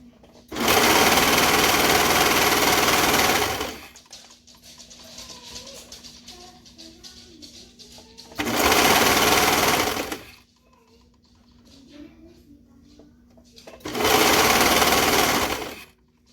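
A sewing machine stitches a stretched waistband onto joggers in three loud, close bursts of rapid running, separated by quieter pauses with faint handling noise.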